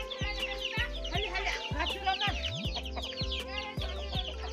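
Several chickens cluck and chatter nearby in a busy, overlapping flock, with repeated low thumps underneath.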